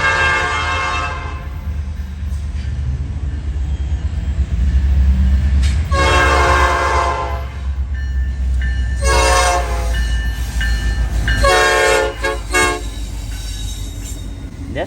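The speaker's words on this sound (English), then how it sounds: "Austell sees every imaginable train under the sun." Freight trains roll past near the Inman and Whitaker train yards in Austell, with a steady low rumble of railcars throughout and several loud, sustained horn blasts sounding close by.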